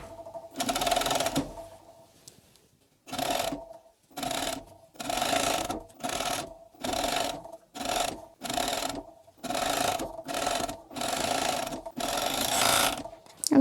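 Coverstitch sewing machine stitching layers of a T-shirt neckband, running in loud, close bursts of steady rapid clatter with short pauses between runs.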